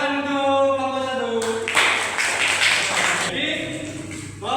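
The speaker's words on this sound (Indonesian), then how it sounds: "Tepuk tangan untuk kelompok satu" A short round of classroom applause for a student group breaks out after a teacher speaks, a brisk burst of many hands lasting about two seconds before talk resumes.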